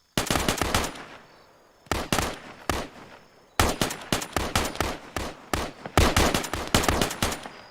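Loud unsuppressed automatic gunfire from the military game Arma 3, rapid bursts of shots in several strings separated by short pauses, close and dominant with no talk.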